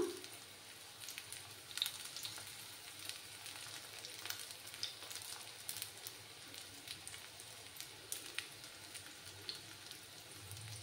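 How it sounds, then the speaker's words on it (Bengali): Sabudana vada frying in oil over a low flame, a soft, continuous sizzle with faint crackles and small pops throughout, quiet and steady with no talking. "এগুলোকে ভেজে নিতে হবে।"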